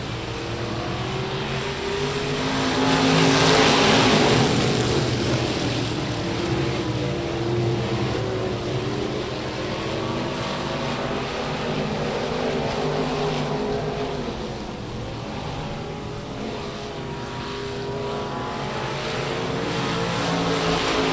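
USRA stock cars in a heat race at Rocket Raceway Park, a sustained loud engine roar with a swell around the third to fourth second, steady pack noise throughout, no talk over it.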